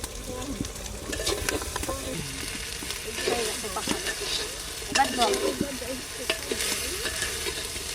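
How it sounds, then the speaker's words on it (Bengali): Duck meat sautéing in a pan, with a close sizzle under repeated scraping and stirring strokes of a utensil that come in uneven bursts, while faint background voices or sounds are intermittently present. "কষানো প্রায় হয়ে গেছে, একটু পরেই জল দিয়ে দেবো আর সামান্য একটু কষানো।"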